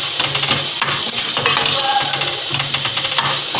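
Spiced fish masala cooks in a pan with water added, giving a continuous loud sizzle and bubbling while a spoon stirs and clinks against the metal.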